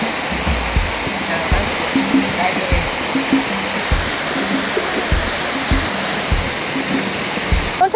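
Udlom Waterfalls, reached by a short trek near Kamangon Cave, roars as a constant loud rush of falling water, with occasional low thumps and faint voices underneath.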